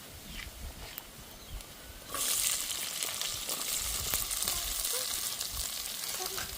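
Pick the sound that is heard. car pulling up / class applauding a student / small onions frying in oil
small onions frying in oil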